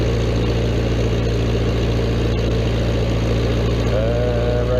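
Vermeer 665A stump grinder engine running steadily at idle, a loud, even mechanical drone with a constant low hum throughout and a slight rise in pitch near the end, no talking.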